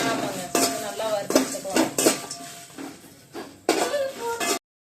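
Dried red chillies sautéed in a pan, with repeated scraping and clinking of a metal spoon against the pan over a soft sizzle, in short bursts that stop abruptly at the end.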